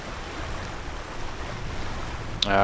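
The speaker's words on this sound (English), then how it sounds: "we got 20 knots of wind right now" Wind and waves wash steadily in the Sailaway sailing simulator game during an ocean race in 20 knots of wind, a broad continuous rush with a brief sharp tonal blip near the end, with no talk.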